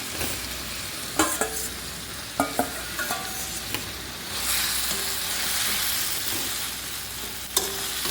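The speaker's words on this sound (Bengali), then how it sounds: "এখন আমি মাশরুমটা দিয়ে দিচ্ছি, ভালো করে মশলাটা কষিয়ে নিলাম।" Mushrooms being stirred and fried in a spiced masala in a pan, with a steady loud sizzle broken by occasional sharp scrapes and clinks of the spoon, heard close and with no talking.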